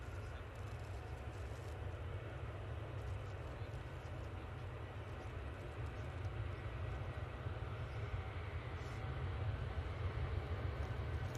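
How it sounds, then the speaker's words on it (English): A Boeing 787-8 Dreamliner bound for Cancun takes off, its distant engine roar a steady low rumble that slowly grows louder over the stretch, with no talk. "This 787-8 Dreamliner is now off to Cancun."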